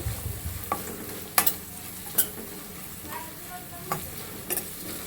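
Onion and green chilli frying in a little oil make a soft, steady sizzle, with a handful of sharp metallic clinks and scrapes as the mix is stirred in the pan, nearby and without speech.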